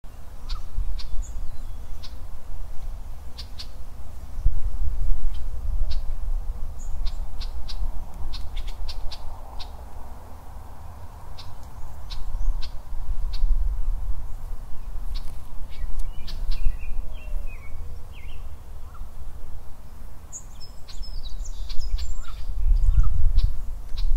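Wild birds calling and singing outdoors, scattered chirps and squawks from several birds over a steady low rumble of background noise, with some calls close and others distant.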